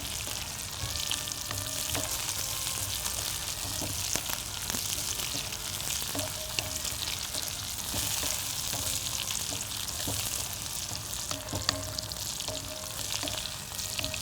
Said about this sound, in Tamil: நல்லா வதங்குது பாருங்கள்.